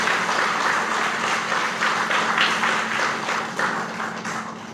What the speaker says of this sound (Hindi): तो एक बार हम सब अपने लिए ये ताली बजाएं